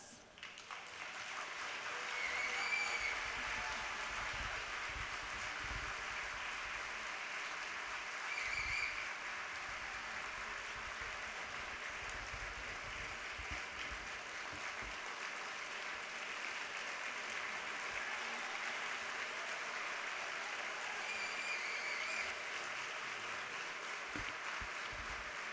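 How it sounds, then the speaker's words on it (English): Audience applause at the Stockton State of the City 2018 event, a dense, even wash of clapping from a large crowd that sounds a little distant and runs steadily throughout. "I know you guys are clapping because you think I can get you free tickets."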